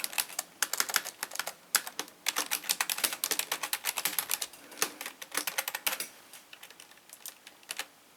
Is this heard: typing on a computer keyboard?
yes